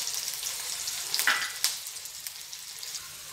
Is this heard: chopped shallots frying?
yes